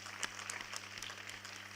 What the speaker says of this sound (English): Can we have a huge round of applause for all of you guys?